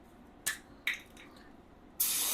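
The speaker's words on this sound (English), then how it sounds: "Kind of spray it off really good." Three short hissing sprays of cleaner onto greasy Yamaha Wolverine 350 ATV axle parts, the last one longer and steady, close by against a quiet background.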